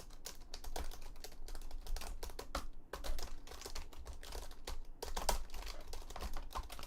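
Fast typing on a computer keyboard, used as a sound effect: rapid, close bursts of sharp key clicks in uneven flurries with brief pauses between runs.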